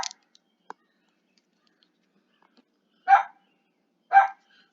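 A small puppy barks indoors in a kitchen, two short sharp barks spaced about a second apart after a near-silent stretch, with a faint yip at the very start.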